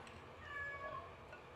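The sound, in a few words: cats meowing, smelling food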